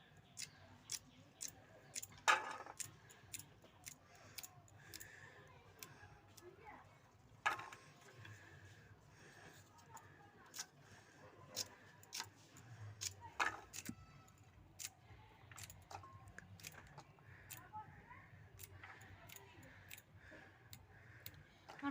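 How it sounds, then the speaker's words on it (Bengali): Knife taps on a board as spring onions are chopped into small pieces in a Bengali kitchen, faint sparse clicks in an irregular rhythm over low room noise. "ছোটো ছোটো করে এই যে পেঁয়াজকলি কেটে নিচ্ছি।"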